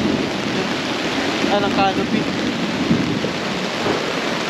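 Heavy downpour at a campsite in Magdalena, Laguna, loud broadband rain with thunder rumbling underneath, close and continuous while someone speaks briefly over it.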